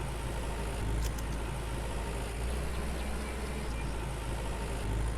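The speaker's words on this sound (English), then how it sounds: "Actually, let's park the tractor and trailer here," A tractor engine idling steadily in the game Lumberjack's Dynasty, a constant low rumble that fills the clip alone with no voices.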